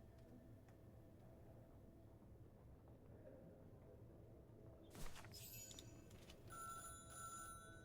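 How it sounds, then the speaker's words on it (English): An old-fashioned telephone bell rings in the Syberia: The World Before video game, a bright metallic trill that breaks into a quiet, humming room tone after a few seconds and repeats faintly. "Phone's ringing."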